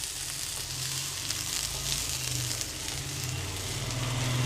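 Horse gram sizzles in a hot pan while a Kerala-style thoran is cooked. A continuous, close hiss of frying holds steady throughout, with a faint low hum underneath.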